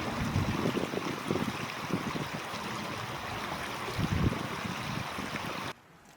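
Creek water flows steadily along a hiking trail, a continuous close rushing burble with stronger gurgling surges, cutting off abruptly near the end into near silence.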